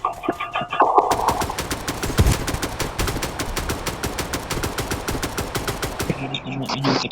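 Rapid automatic weapon fire in a police shooter video game set in Flex City, a long evenly spaced burst of loud sharp shots with brief pauses at the start and end.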